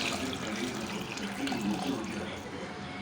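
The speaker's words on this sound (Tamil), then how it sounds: "அதுக்கப்புறம் தேவையான தண்ணி ஊற்றிக்கலாம்" Water pours steadily into a cooking pot holding potatoes and green chillies in a home kitchen, a continuous splashing rush heard throughout at an even level.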